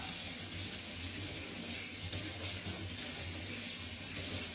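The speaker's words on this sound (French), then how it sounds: "À l'eau chaude, on y va." Hot water runs steadily from a kitchen tap into a sink, a soft, even hiss and splash that stays constant throughout without any talking.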